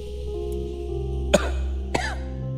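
Two sharp coughs sound a little over half a second apart, fairly close, over a steady low background hum with no talking.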